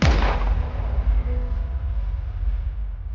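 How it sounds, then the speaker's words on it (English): One sharp, heavy gunshot cracks at the very start, and a long, low, rumbling echo follows and fades slowly over about three seconds. "I heard a gunshot."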